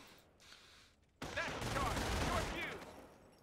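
Gunfire fills a World War II battle in Company of Heroes at Normandy, breaking out suddenly as a loud, dense volley of overlapping shots that rolls on for a couple of seconds and then eases slightly, with battlefield voices mixed in.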